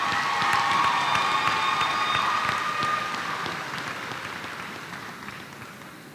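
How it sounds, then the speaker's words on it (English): Applause and cheering from a crowd at a high school graduation ceremony, a dense, steady wash of clapping that slowly fades over several seconds. "Please give them a round of applause"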